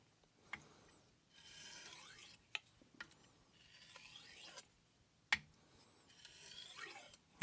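A blade edge rasps across a sintered diamond stone to remove a burr, in several short scraping strokes separated by quiet gaps and sharp clicks, close and fairly faint.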